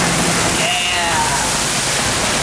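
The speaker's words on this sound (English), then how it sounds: "I love it when it splashes." Rushing water splashing loudly in a steady wash on the Kilimanjaro Safaris ride at Disney's Animal Kingdom, with a faint voice calling out briefly over the noise.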